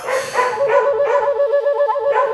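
A dog barks and yelps insistently, loud and close, with a continuous run of tonal, whining barks.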